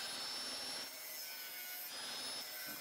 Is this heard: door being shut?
no